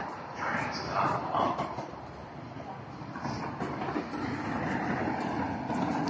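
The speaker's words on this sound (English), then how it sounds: "Oh my gosh, the train is coming." A train rolls into a station at Artic in Anaheim with a steady low rumble and wind buffeting the microphone, while people talk nearby.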